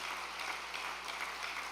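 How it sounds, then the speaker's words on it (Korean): A church audience gives a round of thanks applause, a dense, even patter of many hands clapping that holds steady at moderate level with no talking. "전주인 참모님께 감사의 박수를 부탁드리겠습니다."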